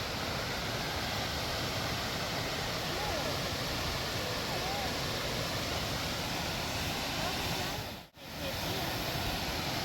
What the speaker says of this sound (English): Hey, there's a waterfall.